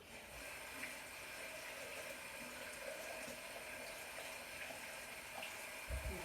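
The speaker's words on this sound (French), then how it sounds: "Voilà, vous les rincez à l'eau." Steady running tap water rinses zucchini in a kitchen sink, a constant close hiss and splash throughout with faint knocks of handling near the end.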